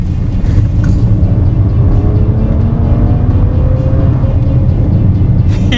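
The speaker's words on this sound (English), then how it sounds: "amazing engine note. Listen to that! That is magnificent! There are not many SUVs that sound this good." A 2019 Maserati Levante SUV engine roars loudly up close, a deep continuous rumble with rising tones as it revs, and no talk over it.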